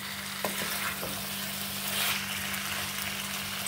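Chicken fries on a low gas flame while being stirred, giving a soft, steady sizzle with a few faint scraping knocks near the start, quiet and close with no talking.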